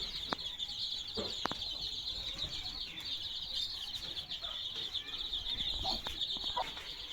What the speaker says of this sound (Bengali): এইখানে একটা মুরগি আছে।